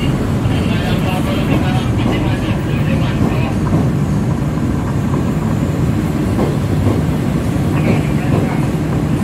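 The Argo Cirebon passenger train rumbles past up close at Bekasi station, loud and continuous, with rhythmic clacking of wheels over rail joints.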